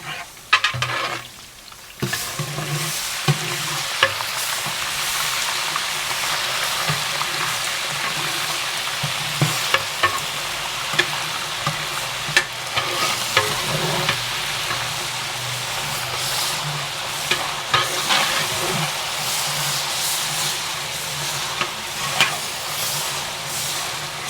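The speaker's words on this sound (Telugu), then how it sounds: "ఇప్పుడు అల్లం వెల్లుల్లిపాయ పేస్ట్ వేస్తున్నారు." Ginger garlic paste sizzles in hot oil with reddish-browned onions for a village-style Andhra mutton biryani, giving a steady hiss broken by frequent scraping stirs of a spoon against the pot, with no talking.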